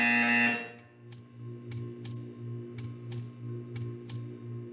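A loud electronic buzzer tone in the video game Portal 2 cuts off, then a steady low hum runs under a series of sharp, evenly spaced ticking clicks, about one per half second.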